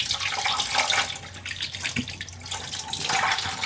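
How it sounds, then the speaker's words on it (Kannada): Water runs steadily from a household kitchen tap in a Bangalore home, a continuous splashing rush with small fluctuations, close and fairly loud, with no talking over it. "ಬರ್ತೈತಿ ನೀರು."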